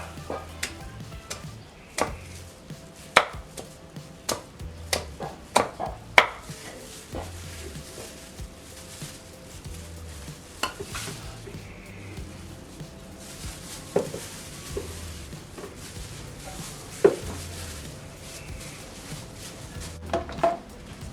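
Rotten fruit waste and leaves are chopped into small pieces for liquid organic fertilizer, a series of irregular sharp chopping knocks over a low background hum, moderately close, no talking.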